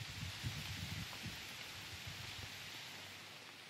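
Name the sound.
heavy rain falling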